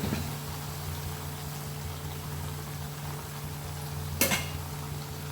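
Bengali-style vegetarian cabbage and spices frying and being stirred in a pan: a steady close sizzle over a low hum, with a brief louder scrape or clatter near the end and no talking.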